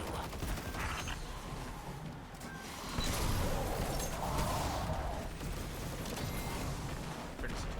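A grenade launcher fires in Destiny 2, several muffled thumping blasts with dense explosive rumble over game music and ambience, growing louder midway through.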